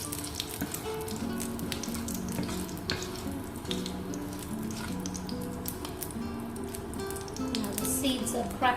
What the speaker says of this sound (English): Seeds are crackly, time to put in the onions